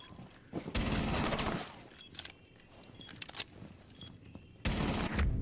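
Gunfire in Rainbow Six Siege: loud bursts of rapid automatic fire near the start and again at the end, with scattered fainter shots and small clicks between them.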